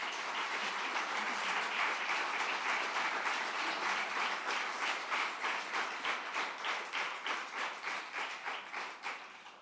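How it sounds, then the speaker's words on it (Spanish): Church congregation applauding during a sermon, a dense roomful of clapping that thins into slower, rhythmic unison claps toward the end, with no speech over it. "Dale un aplauso al Señor, hermano."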